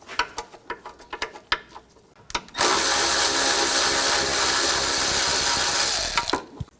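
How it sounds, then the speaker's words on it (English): Tool turning bolts out with a 10mm socket on a 2013-2019 Ford Escape 2.0L, a few scattered clicks and knocks followed by a loud, steady whirring burst of about four seconds that cuts off abruptly. "Using a 10mm socket, I'm going to remove these bolts on the side."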